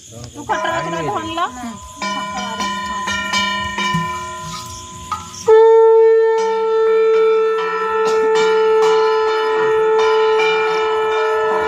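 Ringing metallic temple bell tones during Ganesh puja, with long sustained decays, struck repeatedly, loud and near, layered over one another.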